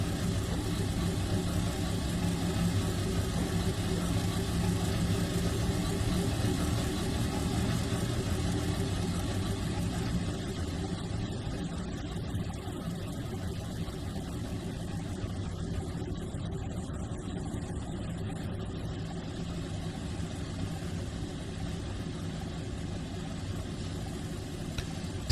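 A locomotive engine idles while shunting in Trainz 2019 on the C&O Hinton route, a steady, moderately loud diesel drone that continues unchanged for the whole stretch with no talking.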